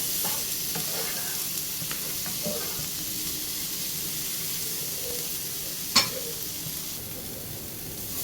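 Chopped tomato being sautéed into masala in a pan while cooking Kerala-style prawn puttu: a steady low sizzle with soft stirring scrapes and one sharp clink near the end, no voices.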